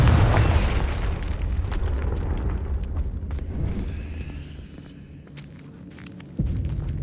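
Confringo fire spell blasting in Hogwarts Legacy, heard as a loud boom at the start, then a rumbling burst of fiery explosion noise that fades and is followed by a sudden second thump, with game sounds continuing throughout.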